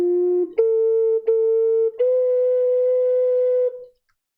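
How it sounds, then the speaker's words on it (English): A short melody on a bass ocarina: three steady, breathy low notes, each held about a second, with soft tongued attacks and brief gaps. The last note is longer and fades out cleanly. No voices. "Playing the exact same thing on a bass ocarina"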